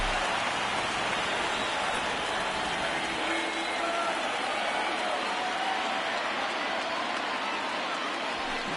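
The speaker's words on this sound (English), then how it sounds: "that rain is really coming down right now" Heavy rain pours steadily in a baseball video game, MLB The Show 19, a dense continuous hiss with no break across the whole stretch, loud and even throughout.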